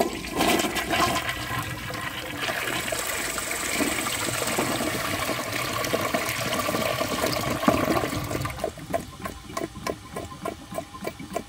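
A 2007 Kohler Highline Ingenium toilet flushing, a loud steady rush of water that fades into trickling and gurgling refill near the end, no talking.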